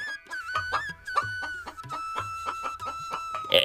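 Two chickens cluck and squawk in quick, repeated bursts, close and fairly loud, with a rooster-like call rising near the end. The sound is cartoon-style farmyard audio.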